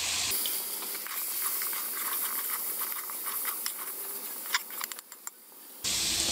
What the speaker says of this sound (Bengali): এখন এর মধ্যে আমি আলুগুলো দিয়ে দিচ্ছি। আলুগুলো ভেজে নেব।